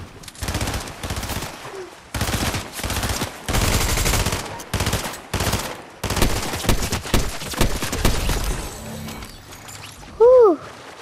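Rapid bursts of gunfire from the battle royale video game Fortnite, loud and close, coming in repeated volleys with short gaps between them and ending in a few sharp tonal game effects.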